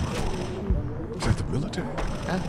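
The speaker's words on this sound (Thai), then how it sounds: "เสียงปืนอ่ะ" Bursts of gunfire in The Walking Dead video game crackle in quick succession, several sharp shots layered over a busy, noisy game soundscape with some voices underneath.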